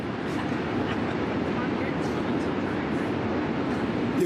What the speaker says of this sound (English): Now this is the train go by.